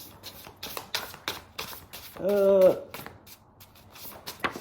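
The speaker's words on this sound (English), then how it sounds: "these cards are so hard to shuffle" Cards riffle and snap in a series of quick papery bursts, close by, with a brief voice-like tone in the middle.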